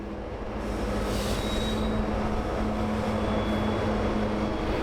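A coal train rumbles past on the tracks in Colorado Springs with a steady roar and a faint metallic squeal, continuous and fairly loud with no talking.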